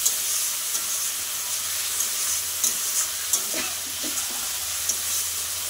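Water poured over spice paste frying in a pan for a tangra fish and potato curry sets off a loud, continuous steamy sizzle, with a few light clinks of stirring.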